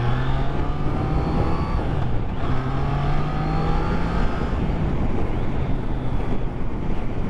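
A Triumph Trident 660 motorcycle in A2 version pulling away under acceleration, its engine note rising in stepped tones through the gears, heavy wind buffeting over the microphone throughout.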